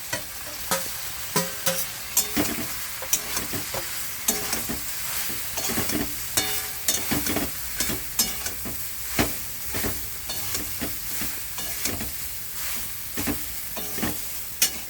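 Spices fry and sizzle in a pan for masala idli while a spoon stirs them in repeated rhythmic scraping strokes, the steady hiss continuing throughout, close and fairly loud.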